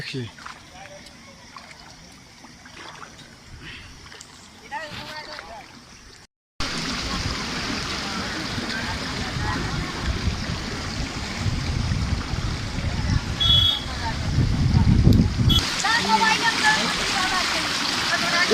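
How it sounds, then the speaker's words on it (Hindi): Floodwater rushes across flooded village fields, a continuous churning roar of fast-moving water that grows louder toward the end, with wind buffeting and someone talking over it throughout. "देखिए एकदम पूरा स्पीड में एकदम चल रहा है पानी एकदम"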